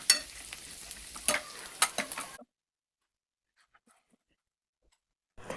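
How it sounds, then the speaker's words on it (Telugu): Almonds, cashews, raisins, cucumber and pumpkin seeds roasting in ghee in a pan, a close crackling sizzle with stirring scrapes for about two seconds before it cuts to silence. "బాదం పప్పులు, జీడిపప్పులు, తర్వాత కిస్మిస్, దోస గింజలు, గుమ్మడి గింజలు యాడ్ చేసి నేతిలో దూరగా వేయించి పక్కన పెట్టాలి"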